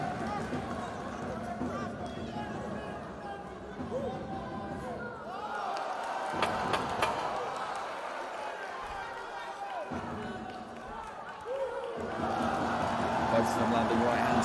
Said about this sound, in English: and the crowd responding to that